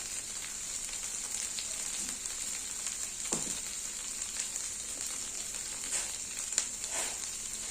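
Chili powder, turmeric and salt frying in a pan for Bengali rohu fish kalia, giving a steady soft sizzle throughout with occasional faint stirring scrapes and no voices.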